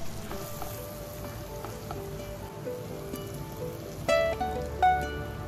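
Coconut milk poured into a prawn curry simmering in a pan gives a steady soft sizzle and bubbling, with a couple of louder clinks and splashes near the end.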